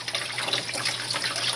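Pumped water pours steadily into an aquaponics fish tank from a reservoir pump, a close, continuous gushing flow with no voices.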